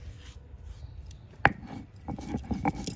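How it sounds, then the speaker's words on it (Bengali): Black peppercorns are crushed on a stone grinding slab with a stone roller, giving a few close, sharp knocks and short scraping rubs with no one speaking. "প্রথমত গোলমরিচটা শিলনোড়াতে একদম পুরো গুঁড়ো করে নেওয়া হবে"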